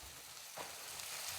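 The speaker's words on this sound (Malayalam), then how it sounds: "എന്നിട്ട് ചട്ടി ചൂടാവുമ്പം ഇതെല്ലാം ഒന്ന് വറുത്തെടുക്കണം" Faint steady sizzling of coconut and spices roasting in a hot pan, a soft hiss continuing throughout with a slight stir partway.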